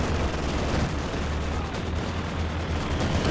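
Katyusha rocket artillery fire in the Company of Heroes 2 strategy game, a dense, continuous barrage of rumbling booms and crackling blasts with heavy low-end thunder, loud and sustained throughout, no talking.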